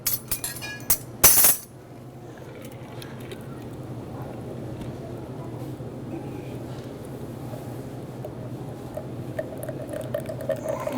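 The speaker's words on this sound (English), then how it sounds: "I might actually pull this with a bar spoon" Bar spoon stirring a peach Bellini in a glass: a quick cluster of bright clinks at the start, then a soft, steady swirl continuing underneath.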